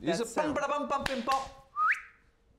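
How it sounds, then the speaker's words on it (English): A voice speaks briefly, then a short rising whistle sounds alone near the end. "So a whistle."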